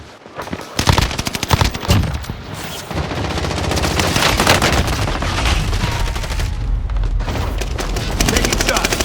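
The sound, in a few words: gunfire in video game Call of Duty Warzone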